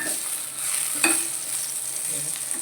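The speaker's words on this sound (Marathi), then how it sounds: "भेंडी बघा चांगली फ्राय होऊ द्यायची" Okra fries in a pan for a village-style masala bhindi fry, giving a steady close sizzle with light stirring and a brief clatter near the middle, no voices.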